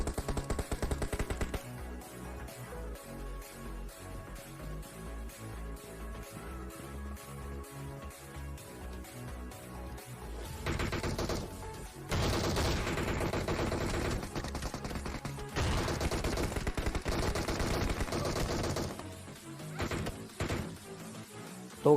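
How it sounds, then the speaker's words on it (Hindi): Heavy gunfire in PUBG Mobile rattles in dense, continuous automatic bursts with short pauses, loud and close, with a brief quiet stretch before the shooting resumes. "मुझे आगे से बहुत तगड़ी फायरिंग आई थी"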